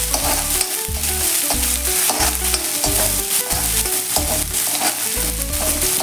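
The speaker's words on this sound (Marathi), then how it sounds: "कांदा हे सर्व घालून घ्यायचं आहे, थोडंसं हिंग घालूयात आणि हे छान असं परतून घेऊया।" Onion, curry leaves and a pinch of asafoetida sauté in a pan, with a strong continuous sizzle broken by regular, rhythmic scraping strokes of the stirring spoon throughout.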